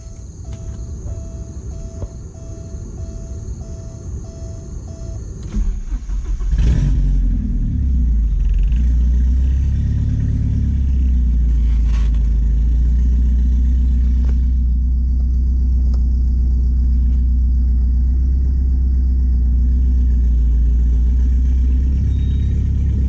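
A Porsche 944 engine cranks and fires after an oil change. It then settles into a steady, loud, close idle with a deep rumble, and a high whine is audible before the start.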